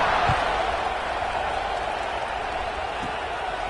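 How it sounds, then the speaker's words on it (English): Football stadium crowd at a college game murmurs and buzzes in a broad steady wash after a score, with an announcer talking over it and a couple of dull thumps early on. "this crowd is buzzing after that last score"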